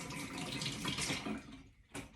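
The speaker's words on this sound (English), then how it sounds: "I'll wash my left hand." Tap water runs steadily into a sink while hands are washed, a continuous close rush that thins near the end before a brief final splash.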